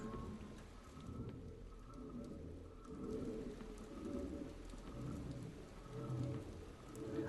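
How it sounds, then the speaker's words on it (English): Soft, steady rain in the video game Insomnis, a low continuous patter and wash with faint murky undertones, quiet and even, without talk. "it's picking up the rain sound"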